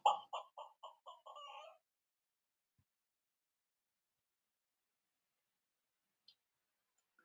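A chicken clucking in a quick run of about six short, loud, close calls, then near silence for the rest of the stretch apart from a faint tick.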